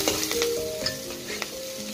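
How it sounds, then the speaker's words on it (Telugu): Sliced onions and fresh curry leaves fry in a pan with a continuous close sizzle and crackle, with faint stirring scrapes and small pops throughout. "ఈ ఉల్లిగడ్డలు వేగుతున్నప్పుడే ఫ్రెష్గా తీసుకున్నటువంటి కరివేపాకు రెమ్మలు 1/4 కడిగి ఈ ఫ్రైకి జత చేయాలి."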